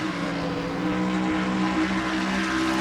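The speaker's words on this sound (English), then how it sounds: "And you hear the engine right there." Race car engine at Dover racetrack during an NNSCRA Castrol GTX Cup Series race, a sustained droning roar with a steady pitch that rises slightly, heard continuously without talk.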